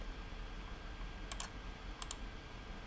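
A computer mouse clicks during photo retouching in Lightroom and Photoshop, as two quick pairs of faint clicks against a quiet background hiss.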